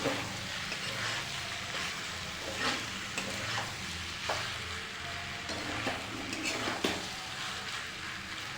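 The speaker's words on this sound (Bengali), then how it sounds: "আবারও ভালো করে নাড়া দেবো বেগুন" Eggplant stirred in a frying pan, a steady sizzle of frying with repeated scraping knocks of a utensil against the pan, close and fairly quiet.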